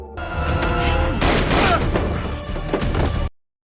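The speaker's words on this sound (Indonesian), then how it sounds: "Suara tembakan barusan terdengar" A dense burst of sharp gunshots in rapid succession, loud and close, with a faint voice beneath before it cuts off abruptly.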